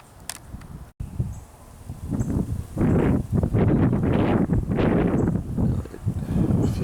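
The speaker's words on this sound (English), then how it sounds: "It feels like the wind is picking up" Gusting wind during a snowfall, a rough, close rumble buffeting the microphone that swells and fades in strong waves and grows louder in the latter half.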